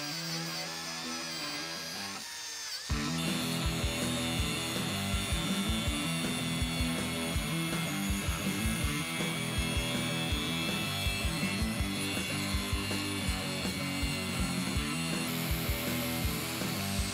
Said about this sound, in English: just finished hitting the bottom of the table with the wire wheel, maybe a little grinder work